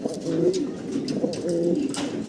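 Fancy pigeons coo in two rolling, throaty phrases, close and moderately loud, with no talking.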